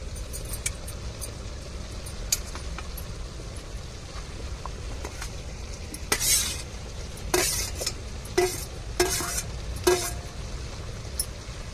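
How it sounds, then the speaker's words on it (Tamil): A cabbage stir-fry with grated coconut sizzles softly in a pan while a spoon scrapes and clinks against the metal in several short bursts. The stirring grows louder toward the end, and no voices are heard. "தேங்காயை வந்து நல்லா முட்டைக்கோசோடு கலந்து விட்ருவோம்"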